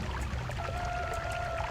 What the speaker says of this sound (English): I'm gonna empty my blood potion